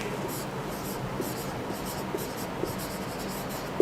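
Marker or chalk writing on a board during a classroom lecture, faint steady scratching strokes with a few light taps, heard over room hum without clear talk.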